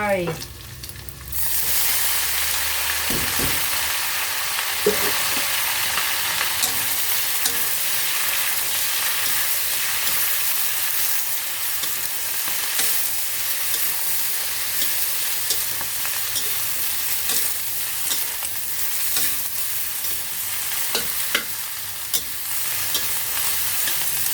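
Vegetables hit a hot pan with a loud burst of sizzling, then keep frying in a dense, continuous hiss for a long stretch as they are stirred, with occasional knocks and no voices.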